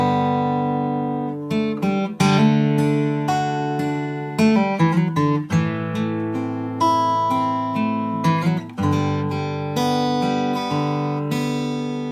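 Solo guitar picks out a melody from the Brokeback Mountain theme over ringing open strings, notes plucked one after another at a moderate pace, clear and close.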